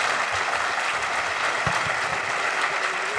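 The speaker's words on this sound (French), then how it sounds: "Il nous reste à vous remercier par vos applaudissements" A round-table audience applauds the speakers, steady crowd clapping filling the whole moment with a few louder claps standing out.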